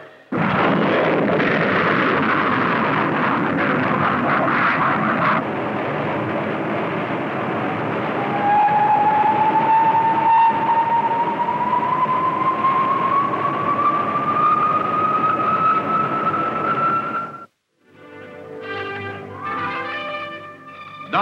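A US Army missile fires at launch with a loud, sustained roaring blast that holds steady while a whistling tone rises in pitch, then cuts off abruptly and is followed by a lower, rumbling tail.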